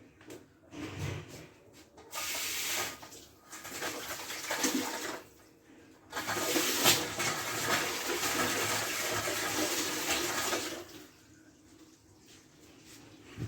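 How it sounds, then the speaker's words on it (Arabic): A quarter cup of water pours and splashes into a dish of pigeon for oven roasting in two longer bursts, with short rubbing scrapes before and quiet pauses between. "هحط عليها ربع كوباية مية"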